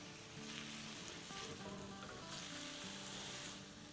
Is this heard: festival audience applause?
no